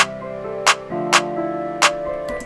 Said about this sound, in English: we're going to start off with the clap because the clap is the easiest drum to put in